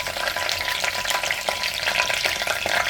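Bay leaves and curry leaves hit hot oil for chicken sukka and crackle in a dense, loud, close sizzle, with rapid popping and stirring throughout and no speech.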